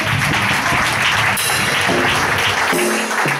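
A church congregation at a Sunday worship service applauding loudly and continuously, a dense wash of clapping with a few sharper accents, no voices standing out.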